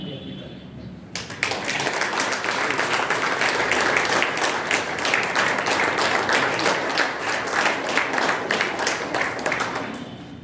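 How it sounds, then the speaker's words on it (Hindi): Audience applause after a Republic Day discourse bursts in suddenly after a brief quiet moment, then holds as a dense, even roar of clapping from a large crowd, with a faint voice underneath near the start. "बहुत जल्दी तालियां बजनी बंद हो गई।"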